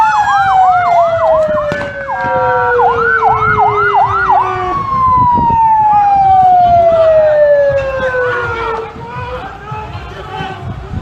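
A wailing ambulance siren cycles rapidly, then shifts into long falling sweeps, loud and near, with voices and street commotion underneath, in Ramallah after a stabbing and shooting.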